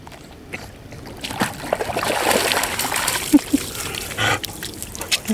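A child splashes while swimming in a pool, making irregular watery slaps and splatters at close range, with voices cheering and talking around the splashing.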